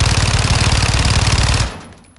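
Rapid automatic gunfire in Modern Warfare 2 multiplayer, a loud continuous burst of fast repeating shots that stops abruptly, leaving a brief fading tail.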